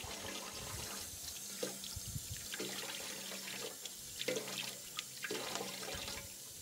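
Tap water running into a sink while hands are washed in a rural Chinese home, a steady faint stream with splashes and small knocks, no talk.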